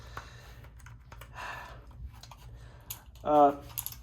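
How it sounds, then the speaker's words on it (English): Crisp clicky keystrokes from a Corsair K70 RGB Pro mechanical keyboard with Cherry MX Blue switches, typed in short bursts with pauses between them, close up. "Those MX blue switches are louder than I thought"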